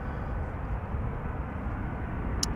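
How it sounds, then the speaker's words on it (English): A KLM Embraer 190 jet arrives at Amsterdam Schiphol, its engines a steady, broad rumble heard from a distance, constant in level with no voices and one brief sharp click near the end. "This is the KLM Embraer 190 arriving from Cardiff, flight 1060."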